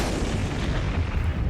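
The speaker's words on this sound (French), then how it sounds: "Explosion." A heavy, rumbling explosion from the film Army of Darkness roars loud and continuous, a dense low boom with crackling debris that fills the whole moment without pause.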